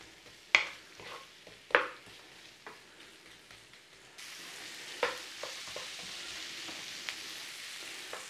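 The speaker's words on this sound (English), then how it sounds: "Nice little stir fry." Vegetables for a meatless Lancashire butter pasty filling stir-fry in a pan, with a few sharp utensil knocks early on, then a louder steady sizzle with scattered scrapes and taps.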